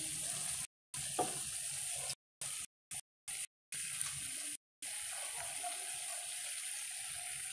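Cabbage sizzles and hisses in a frying pan while making butter chopsuey, a steady close crackle broken by several brief silent gaps.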